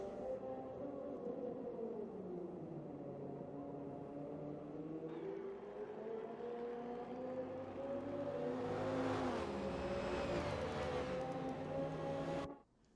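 Race cars including a McLaren and a Chevy lap the Kyalami circuit in a sim racing game, engines droning and revving steadily with gear shifts and a louder rising whine as cars close in, fading abruptly at the end.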